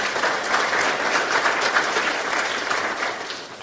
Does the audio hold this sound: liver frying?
no